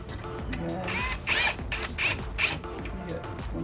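A screwdriver turning screws into a Jeep Cherokee XJ headlight housing, a series of short ratcheting clicks in bursts, close and fairly quiet, with no talking.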